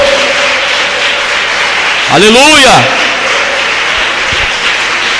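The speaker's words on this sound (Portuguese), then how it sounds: "Vamos aplaudir forte, amados, a palavra do Senhor" A church congregation applauds loudly and steadily throughout, a dense wash of clapping with a single voice calling out over it midway.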